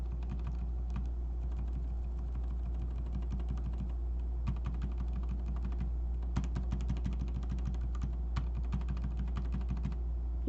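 Close typing on an Epomaker EP84 mechanical keyboard with lubed and filmed switches, quiet muted clacks in a steady run that quickens in places, over a low steady hum.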